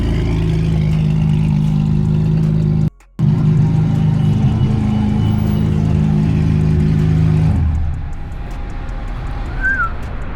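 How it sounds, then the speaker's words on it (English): A JDM car pulling up at a Nissan car meet: a steady, close mid-pitched engine drone holds for several seconds with a brief cut, then fades to a lower idle with faint birds in the background. "Already had the first car pull up right now."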